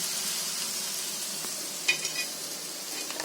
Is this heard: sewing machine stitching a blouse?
no